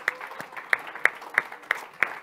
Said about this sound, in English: Let's give Jesus a hand clap of praise today.